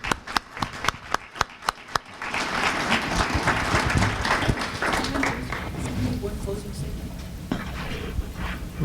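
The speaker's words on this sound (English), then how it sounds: "How about a round of applause for our moderator and our speaker?" An audience at a panel discussion on well pad reclamation applauds, opening with a few sharp individual claps that swell into dense, sustained clapping from many people, heard from within the room and gradually thinning toward the end.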